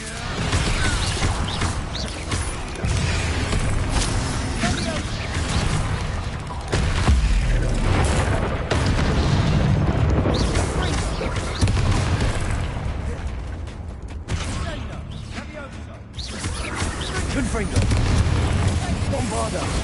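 Repeated spell explosions in the video game Hogwarts Legacy, loud booms and crashing blasts layered over continuous combat noise, with a voice calling out throughout.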